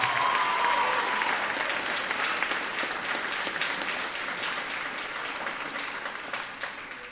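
Audience applause after a song at a middle school popular music concert: a dense, steady round of clapping from a large crowd, gradually thinning and fading toward the end.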